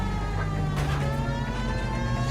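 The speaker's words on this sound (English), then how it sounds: "I've turned on my siren so that this person will move" Police car siren in the video game L.A. Noire, a steady wailing tone sounding continuously at moderate level over low engine and traffic noise, with no voices.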